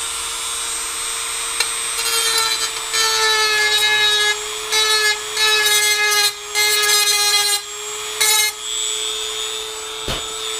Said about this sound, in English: all I did was grind the stem off right down to the metal